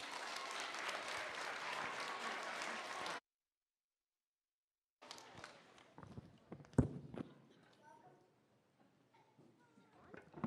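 A school assembly audience claps steadily for about three seconds, then after a pause come scattered footsteps, shuffling and light knocks as people move about the room.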